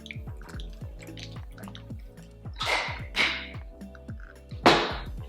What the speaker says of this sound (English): I'm taking my Flower Beauty setting spray. Love the mist of this.